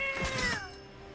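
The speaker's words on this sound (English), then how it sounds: "The cat." A single drawn-out cat meow from a card game, with a tonal, wavering call that bends downward and fades, moderately loud and alone without speech.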